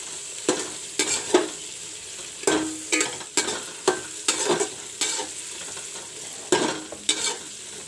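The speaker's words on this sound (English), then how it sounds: "The soya chunks are fried up a bit." Soya chunks frying in a pan, a continuous soft sizzle broken by a dozen sharp scraping stirs of a spatula against the metal, close and loud, with no voices.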